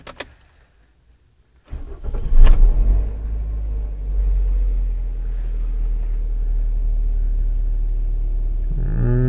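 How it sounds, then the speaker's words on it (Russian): Inside a first-generation restyled Toyota Avensis with a 2-litre, 148 hp petrol engine, the motor cranks and catches after a brief silence. It settles into a steady, fairly loud idle rumble, with a faint whir near the end. "Двигатель слышно больше, чем я ожидал."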